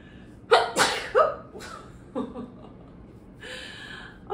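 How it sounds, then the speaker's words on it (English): One person sneezes close up, a sharp explosive burst with a short breathy follow-up. Faint breathing and soft chuckling come after it. "Oh, I sneeze."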